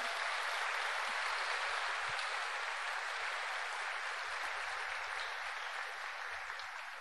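A church congregation claps together during a sermon, a dense, continuous wash of applause that stays steady and fairly distant for the whole stretch.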